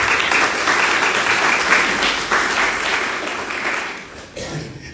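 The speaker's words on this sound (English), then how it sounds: "Let's give them a round of applause." A crowd at a community town hall applauds the five candidates, giving a loud, dense, continuous round of clapping that sits close to the microphone and fades a little near the end.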